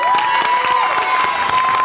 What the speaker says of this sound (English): you give me a bigger round of applause than that